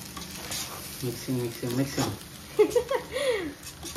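Chicken masala and coriander powder stirred into a pan, a quick run of spoon scrapes over a soft sizzle, with a person speaking over much of it.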